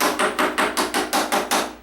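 Rapid, evenly spaced metallic taps, about eight in under two seconds, strike close up on an old shower drain cover that has not been removed for a long time, loosening its edges, with no talking.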